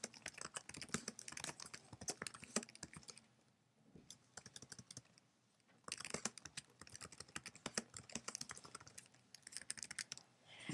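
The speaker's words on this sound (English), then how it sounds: "we type in our stuff." Steady typing on a computer keyboard while writing HTML, quick close clicks in two bursts separated by a short pause, with no voices.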